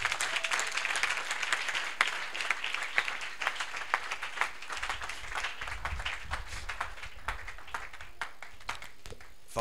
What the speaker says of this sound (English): Oh, go ahead and clap.